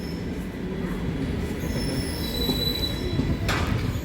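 A passenger train with second-class coaches rolls along the rails as a steady, close rumble heard from aboard. Faint high wheel squeals run through it and a brief hiss comes near the end, with no one talking.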